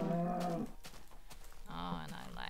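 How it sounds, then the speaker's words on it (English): Cow mooing in a video game: two close, loud, drawn-out moos separated by a short pause. "Hello, cow."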